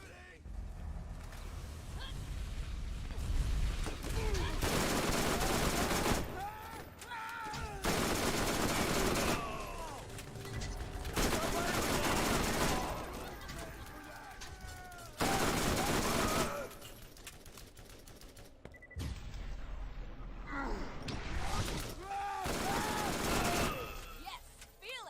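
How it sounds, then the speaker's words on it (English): Video-game gunfire on a hardest-difficulty permadeath run: long, dense bursts of rapid automatic shots, loud and close, broken by short pauses with game voices and effects between volleys. "Keep shooting!"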